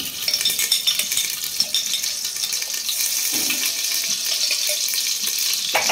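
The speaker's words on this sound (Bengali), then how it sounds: "এরপরে কড়াইতে আমি কিছুটা ঘি দিয়ে দেব" Ghee heating in a wok for basanti pulao gives a steady, close frying sizzle with small crackles and scattered clinks, constant throughout with no voices.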